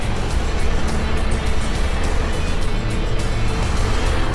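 A 2001 Honda Accord EX-L V6 idles steadily, a continuous low engine rumble at moderate level with no distinct start-up burst, heard alone without talk.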